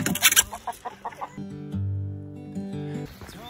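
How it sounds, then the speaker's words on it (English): Chicken clucking at a rural motorhome stopover in north Lancashire, a few quick close clucks at the start followed by quieter background sound. "chicken, I think you're going to have to move"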